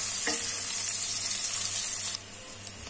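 Chopped onion sizzles steadily in a pan of garlic-ginger paste over a medium flame, a continuous bright frying hiss with occasional stirring scrapes, dropping slightly quieter near the end.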